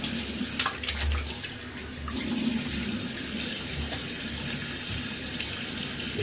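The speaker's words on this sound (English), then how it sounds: "Just rinsing off all this goodness." Water runs steadily from a tap while a shaving razor is rinsed at a sink after a wet shave, a continuous splashing hiss with small bursts and no talk.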